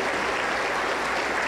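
A church congregation applauds during a worship service, a dense, steady wash of clapping from many hands that holds throughout the short stretch.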